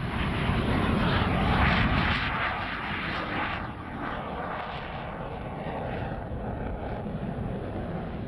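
Navy jet engine roaring steadily during a carrier landing approach, a loud broadband rumble with wind buffeting that stays continuous and near throughout.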